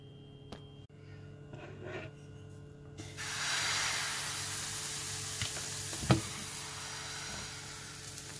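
Crepe batter hitting a hot frying pan, a quiet stretch giving way to a steady, bright sizzle that holds evenly, with a small clink partway through, close by and without talking.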